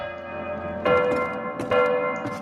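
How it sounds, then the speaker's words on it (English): A bell rung in the video game Datura, two bright, sustained metallic strikes about a second apart, each ringing out with a long tonal decay over a steady background hum. "you want to ring this bell, which you have to do anyway"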